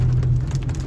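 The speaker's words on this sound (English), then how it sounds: "Told you we could get a little bit of hail coming out of this." Rain with hail patters steadily on surfaces during a monsoon storm in Big Bear, a dense hiss over a low constant hum, brief and fairly loud.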